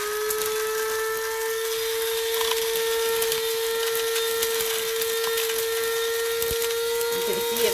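Vitamin C tablets whir and grind in a small electric grinder, a steady high-pitched motor whine with gritty rattling of broken tablet pieces, running continuously and close.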